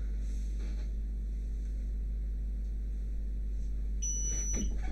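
A QVIS VIPER-NVR-4BB CCTV network recorder, faulty and restarting, gives a short electronic beep near the end of the clip, heard over a steady low fan hum.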